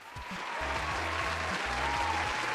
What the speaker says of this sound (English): Where's that cheering coming from?